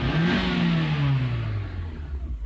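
A 2002 Nissan X-Trail under investigation for low power and a P1110 fault code, its engine revving hard at wide open throttle and then falling away, loud and close throughout.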